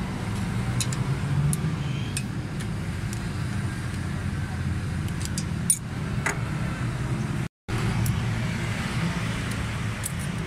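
A Suzuki Cultus EFI car engine with a fuel fault idles close by in a steady low hum, with light ticking and faint clicks over it and a brief cutout near the end.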